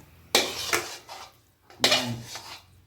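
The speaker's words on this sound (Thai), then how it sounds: "ขุดกระทะมากเลยอะ" Metal utensil scraping and clanking against a wok while cooking a Thai Phuan-style eggplant and mackerel larb, in two loud bursts of scraping strokes, close up with no talk.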